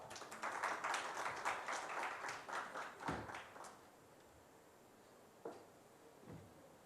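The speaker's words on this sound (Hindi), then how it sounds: "आइए जोरदार तालियों से स्वागत करें" An audience at a stage event claps loudly to welcome a guest, a steady dense burst of applause for about three and a half seconds that fades out, leaving a quiet room with a couple of faint knocks.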